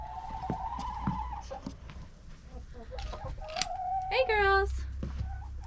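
Backyard chickens cluck and squawk near the coop on a snowy day, several close birds calling in short bursts and a rising squawking run, while a person briefly speaks to them.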